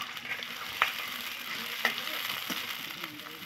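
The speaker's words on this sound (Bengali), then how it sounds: "এটা একটু ভেজে নেব।" Onions, green chillies and chopped tomatoes frying in oil in a small home kitchen, giving a steady soft sizzle with a few sharp clicks of utensils.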